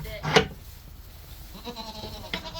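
Goats: a single loud bleat near the start, then quieter farmyard noise with another short bleat near the end.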